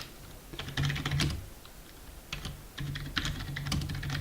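Someone types on a computer keyboard, quiet clicking keystrokes coming in short bursts with brief pauses between them. A low background hum sits underneath.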